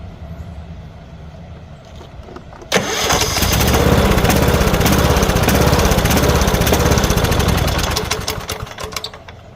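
A Troy-Bilt Bronco riding lawn mower cranks briefly, then its engine catches abruptly and runs loud and steady at close range before easing slightly toward the end.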